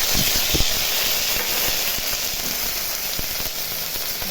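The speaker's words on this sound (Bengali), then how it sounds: "এখন আমি এই যে মশলা বাটাটা দিয়ে দিচ্ছি।" Ground garlic, ginger and green chilli paste frying with browned onions in hot oil, a loud continuous sizzling hiss with scattered crackles and pops close by.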